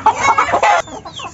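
Hens cluck and squawk in agitated bursts while being caught by hand and moved into a new colony cage, loud and close, with a short flurry of calls.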